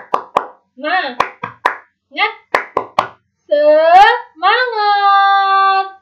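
Children in a third-grade class do a rhythmic spirit clap, a patterned series of sharp claps in short bursts, then join in drawn-out chanting voices.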